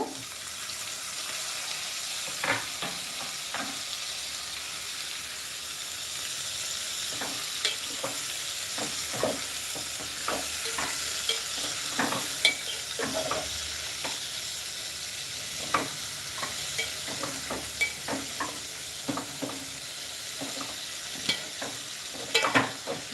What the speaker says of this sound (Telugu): ఇది కూడా బాగా వేగాలండి సిమ్లోనే పెట్టుకోండి